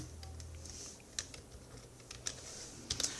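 Someone typing SCSS code on a computer keyboard, a sparse string of light, crisp key taps and a few sharper clacks, close and quiet with no talk.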